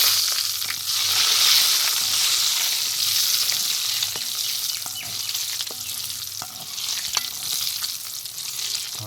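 Fenugreek powder tempering in hot oil for lemon pickle, a loud continuous sizzle and crackle with occasional stirring scrapes against the pan.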